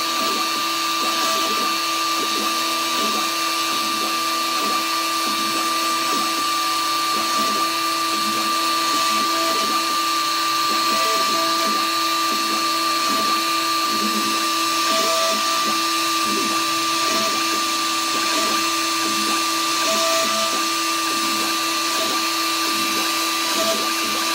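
An X-Carve CNC router carving a US Coast Guard plaque with an anchor design produces a loud, constant high-pitched spindle whine with a rhythmic pulsing cutting pattern underneath, close and unbroken throughout with no voices.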